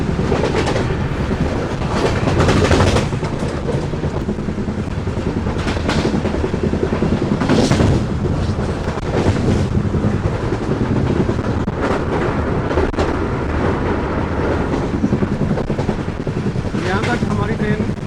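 Running train, the 14505 Nangal Dam Express, heard from onboard as a steady loud rumble and rattle of carriages with wind noise throughout, broken by occasional louder clanks.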